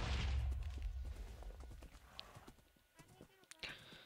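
A horse's hooves clip-clop in a multiplayer video game, a loud rush of movement at first and then quieter irregular hoof steps. A voice speaks faintly partway through.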